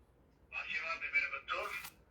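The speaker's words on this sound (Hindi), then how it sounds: "रिंगटोन लगी हुई है, रिंगटोन सुनाता हूं आपको मैं" A mobile phone ringtone plays at close range as a bright tonal melody in two short bursts, lasting about a second and a half.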